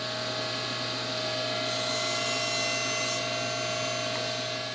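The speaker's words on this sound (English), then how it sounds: "I'll just butt the end up against that and then run it through the saw" A woodworking saw hums loudly and steadily while a piece of wood is pushed through for a console table, with a brief brighter rasp of the blade cutting in the middle before easing off.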